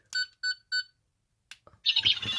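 Three quick electronic beeps in a row from a toy Fourteenth Doctor sonic screwdriver's diagnostic mode, then a short pause and a burst of buzzing electronic noise.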